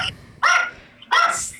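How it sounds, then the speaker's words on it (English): A dog barks twice, loud and close, with a short pause between the two sharp barks and no talk. "There goes your dog."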